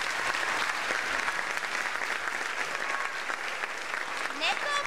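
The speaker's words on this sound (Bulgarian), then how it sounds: "Силни аплодисменти за тях!" Sustained audience applause fills a school stage performance, steady dense clapping from a large crowd throughout, with a few brief higher sounds near the end.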